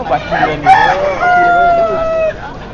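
Fighting roosters with small blades tied to their legs crow loudly and close by at a cockfight in Bali, Indonesia, a long drawn-out crow with clucking and crowd murmur in the background.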